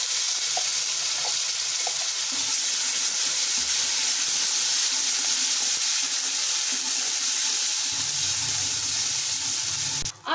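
Steady, loud sizzling and crackling of a freshly ground spice paste frying in a hot pan, continuous throughout with faint stirring scrapes and no voices.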